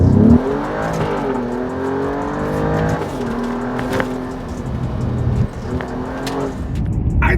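Alfa Romeo Giulia Quadrifoglio with automatic transmission accelerating hard, its engine note climbing through several quick upshifts, loud and close from start to finish with no voices.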